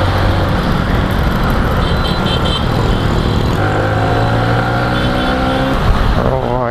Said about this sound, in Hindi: काफ़ी सीरियस और काफ़ी बहुत ही भयंकर ट्रैफिक था